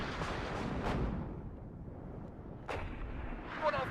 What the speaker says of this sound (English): There's that artillery landing.